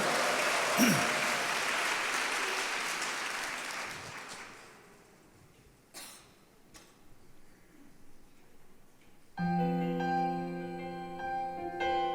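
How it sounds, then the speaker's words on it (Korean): A church women's service audience applauds to welcome a singer to the stage, a sustained clapping that fades over about five seconds to quiet, before music starts near the end. "큰 박수로 환영해 주십시오"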